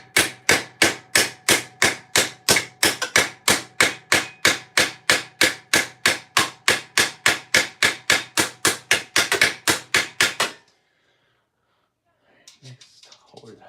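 Rapid, evenly spaced hammer blows rivet an armour helmet, about thirty sharp close strikes in steady rhythm that stop suddenly, followed by silence and faint handling sounds.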